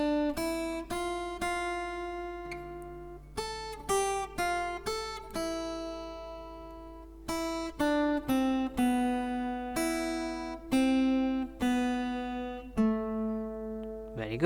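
Fingerstyle acoustic guitar plays the fourth line of Bella Ciao, a steady run of plucked single notes and chords, close and clear with no voices.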